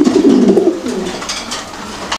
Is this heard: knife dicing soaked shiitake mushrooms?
no